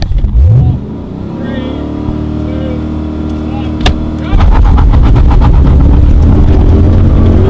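A rally car with a 6.2 litre Chev LS3 V8 under the bonnet roars on a tarmac rally stage, a loud in-car engine note that rises and then surges harder after a sharp bang, with a voice talking over it.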